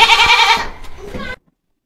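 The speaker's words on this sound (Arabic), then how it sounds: "جايب لي معزة ولا جدي صغير زي كل سنة يعني" A young goat bleats loudly and close in a strained, wavering cry lasting over a second, then cuts off abruptly into silence.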